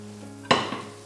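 Precooked vegetables tipped into a kadai vegetable curry in a pan, giving one sudden sizzling splash and a brief stir, then a fading hiss.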